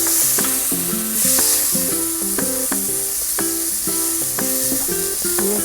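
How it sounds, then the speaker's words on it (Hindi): Carrots frying and being stirred in hot oil in a pan for spicy pasta noodles, a loud steady sizzle broken by regular clinking scrapes of the spoon against the pan, with no talking. "उसके बाद इसमें हम सबसे पहले गाजर डालेंगे फ्राई करने के लिए"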